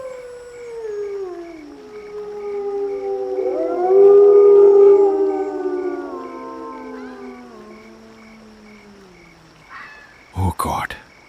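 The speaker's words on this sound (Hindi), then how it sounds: "ये सियार कितनी डरावनी आवाज में रो रहे हैं।" Jackals howl at night near a river in a village setting, long rising and wavering wails that overlap and swell loudly in the middle, then fade, followed by a brief sharp burst of noise at the end.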